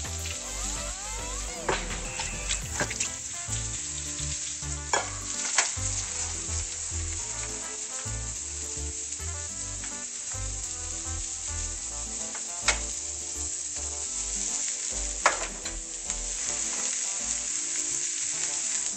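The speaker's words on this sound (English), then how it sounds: "I'm gonna throw the vegetables and saute them." Vegetables sauté in a hot pan for tostadas, giving a steady, loud sizzle and crackle that runs throughout, with occasional sharper pops and clicks of utensils.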